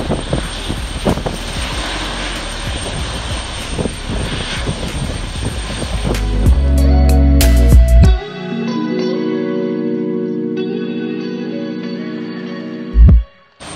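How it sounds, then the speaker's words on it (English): Jet aircraft engines at an airport, a loud sustained roar with rumble that swells and then settles into a steady whine, heard alone without talk. "There was no 747 to be found, but lots of other cool jets."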